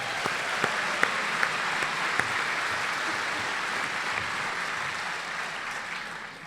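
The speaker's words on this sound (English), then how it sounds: "So now would be a good time to applaud." A large audience at a medical school commencement ceremony applauds in a broad, sustained wash of clapping that fades slightly at the end, with a few sharper claps standing out early.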